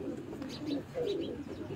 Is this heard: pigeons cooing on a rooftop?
yes